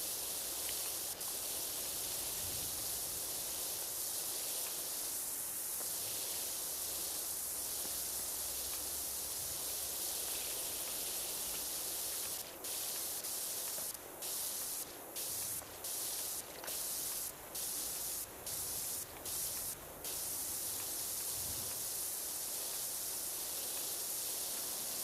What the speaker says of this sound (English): Alright, let's come over here, spray this.